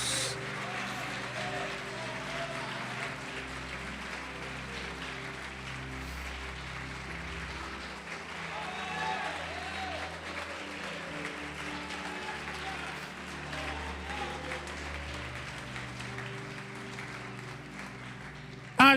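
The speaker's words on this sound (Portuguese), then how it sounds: "Pode aplaudir o Senhor e glorificar a Deus" A church congregation applauds during a sermon, with steady broadband clapping running the full length and voices and music sounding over it throughout.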